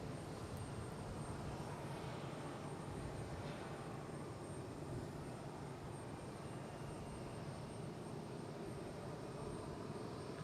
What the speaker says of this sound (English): It's a cool looking jet here, actually.